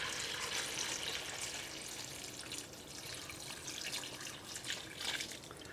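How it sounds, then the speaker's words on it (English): Water runs from a kitchen tap into a pot of butterbeans, a steady soft splashing and hissing stream heard alone at low volume. "let me get some water to cover that up with"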